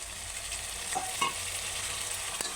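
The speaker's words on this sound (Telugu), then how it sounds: "అదే ఆనియన్స్లో పచ్చిమిరపకాయలు, కొత్తిమీర, పుదీనా అయితే వేసుకుంటున్నాం" Onions, green chillies, coriander and mint fry in a pan while being stirred, making a steady close sizzle with a few brief scraping knocks from the spoon.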